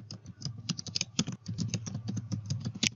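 Someone types an email address on a computer keyboard with rapid, close clicking keystrokes in an irregular but continuous patter.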